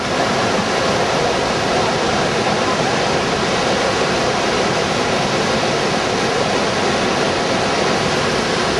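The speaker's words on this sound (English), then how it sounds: "we're just walking up the river. This is quite fast flowing." Fast-flowing river on Dartmoor rushes in a loud, steady, unbroken roar of water heard close up, with no voices over it.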